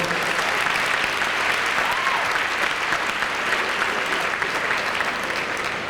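A large audience applauds steadily throughout at an award ceremony, the dense clapping loud and continuous with a faint voice or two underneath.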